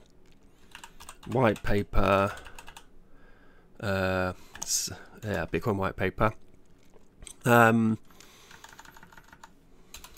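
Keys clatter in quick bursts on a computer keyboard while someone edits a file in a command line text editor, with someone talking between and over the typing.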